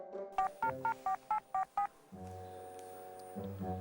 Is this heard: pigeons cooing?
no